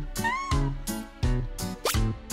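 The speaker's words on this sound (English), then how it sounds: "The Norwegian Forest Cat is a cat with long fur and a fluffy tail" A Norwegian Forest Cat gives a few short meows over a bouncy, repeating musical backing at moderate volume.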